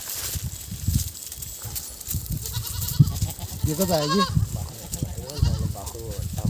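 A young male goat kid on a farm bleats loudly and close several times, wavering cries between stretches of someone talking over rustling and shuffling background noise.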